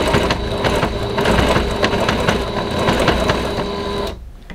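A sewing machine stitches a flipped hang towel with a steady, fast mechanical whir and rapid needle clatter. It runs close and loud for about four seconds, then stops abruptly into quiet.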